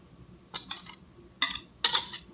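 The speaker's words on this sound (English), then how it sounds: "then we're going to gently stir in the avocado" Avocado being gently stirred into a quiche mixture in a bowl, with four soft, brief scraping strokes spaced apart, close and fairly quiet.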